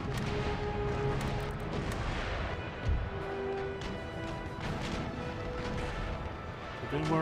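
Sailing ships firing cannons in Empire: Total War, a steady, dense roll of booming shots and crashing impacts with battle noise continuously underneath, and a voice speaking over it.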